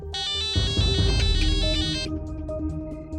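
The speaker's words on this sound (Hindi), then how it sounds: "अचानक उसका फोन आया" A loud electronic phone ringtone plays a bright melodic tune for about two seconds over a deep bass beat, then fades out.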